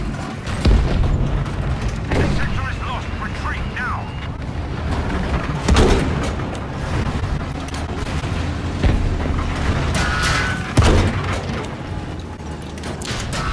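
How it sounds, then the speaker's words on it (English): Heavy gunfire and booming explosions strike a building during a Battlefield V match. Dense rolling blasts and bursts of shots sound near and loud over a constant rumble, with muffled voices mixed underneath. "Just shoot at the building, bro, because there's a whole bunch of niggas in there."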